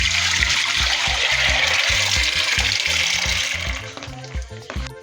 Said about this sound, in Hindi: ये हमने दाल डाल दी है।